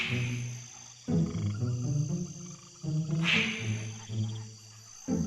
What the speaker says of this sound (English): when all the lights are off, I hear the males croaking